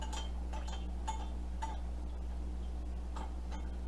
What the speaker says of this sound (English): You just use a spoon or a whisk or whatever you have and just stir this up